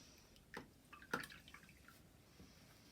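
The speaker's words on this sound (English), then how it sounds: "give your brush a wash off" A paintbrush is swished and rinsed in a water pot between strokes of acrylic sky painting, giving a few soft, close splashes and drips over a quiet background.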